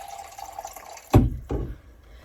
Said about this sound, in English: I'm gonna add some more water